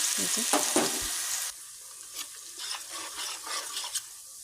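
Crushed garlic sizzling in hot oil in a home kitchen pan, a loud steady fry with stirring scrapes at first, then quieter, spattering sizzle with occasional clinks.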